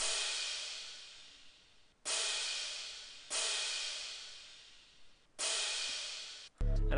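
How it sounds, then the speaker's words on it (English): A crash cymbal sample in a Glo beat hits four times, each a bright, washy burst that sustains and slowly fades before the next, ending with a low hit. "And then after that, I of course added in this crash that sounds like this."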